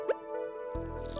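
A watering can pours on crops in Stardew Valley, a brief bright splashing drip at the start, followed by sustained tonal game music.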